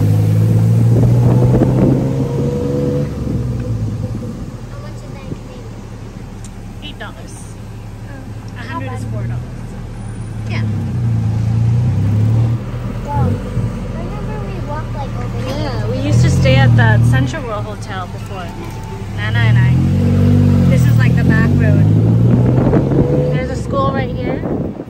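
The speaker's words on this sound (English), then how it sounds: "We got a tuk-tuk. 200 baht to go back to our condo." A tuk-tuk ride through Bangkok traffic: a buzzing small engine rises and falls in pitch as it revs and idles, with wind buffeting the microphone and people talking intermittently over it.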